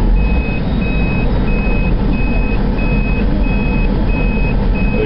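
A truck hauling three trailers through a tight turn rumbles steadily and close by, while a reversing alarm beeps in an even, repeating rhythm throughout.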